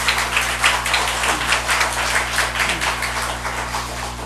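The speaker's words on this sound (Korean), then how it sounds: "입덧 세게 하라고 우리 박수로 한번 축복하도록 하겠습니다" Church congregation clapping together as a blessing for a pregnant woman, a dense, steady wash of many hands applauding indoors, continuous throughout with a low hum beneath.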